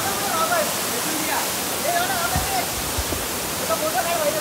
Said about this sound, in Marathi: शेवटी पोचलेला आम्ही विपुरी वॉटरफॉल